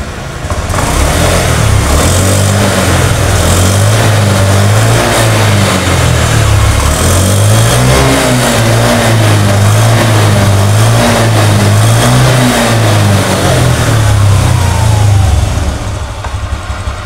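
A Honda Beat scooter with a fuel pump fault and a blinking engine light, its engine revved up and down repeatedly for a long stretch, loud and close, with a wavering mid-pitched drone that climbs and falls with each throttle blip.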